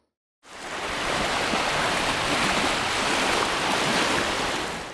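Crisscross ocean waves at a beach make a loud, continuous roar of surf that starts suddenly and holds steady throughout.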